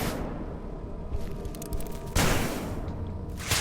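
Magnum revolver shots in the video game Nightmare of Decay, a few booming reports, the sharpest near the end, set against a steady game ambience with no talk.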